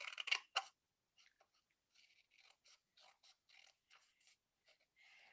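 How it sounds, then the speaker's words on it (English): Scissors snip through a paper card sentiment in close, quiet bursts: two louder cuts at the start, then a steady run of short, soft snips separated by silence. "we're going to cut this sentiment up"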